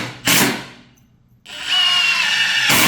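Cordless impact driver bursts, set against Dewalt and Milwaukee drivers: a short whirring burst, a brief pause, then a longer sustained run with a rising whine and rattle, close and loud.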